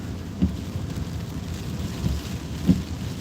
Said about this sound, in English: The only problem with the rain is it doesn't know when to stop either.